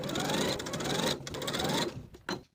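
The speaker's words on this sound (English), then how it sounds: "Now I'll sew this center back section in place with a 1/4-inch seam allowance." A sewing machine runs steadily along a linen shirt seam, a close, loud continuous whir with a brief dip midway, then slows and stops with a final clunk.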